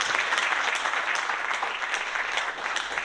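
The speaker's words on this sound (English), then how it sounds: "can you please give him a round of applause?" A crowd at a roundtable event applauds a speaker steadily, a dense patter of many hands clapping throughout, fairly loud and close.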